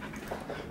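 A tired dog pants softly and quickly just after coming home from a long walk, a faint, close, rhythmic breathing with no other sounds.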